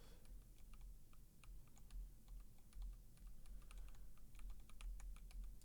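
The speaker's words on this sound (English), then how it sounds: "I can hear my keys clickety-clacketing." Computer keyboard keys clicking in quick, irregular bursts of typing, close but quiet over a low steady hum, with no talking.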